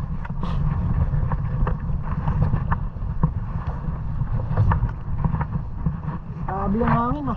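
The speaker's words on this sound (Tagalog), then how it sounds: "Grabe yung hangin, ah." Strong wind roars steadily at a shoreline at high tide, heavy low rumble from gusts hitting the microphone, with voices talking throughout.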